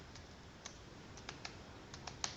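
Typing on a computer keyboard, a string of faint, light key clicks at irregular intervals over low background hiss.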